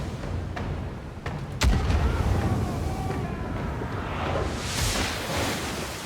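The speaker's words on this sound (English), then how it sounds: "Fire the port cannons." Port cannons fire during a video-game sea battle, giving a sharp boom partway through, with wind and water noise rolling around it and a few fainter thuds earlier.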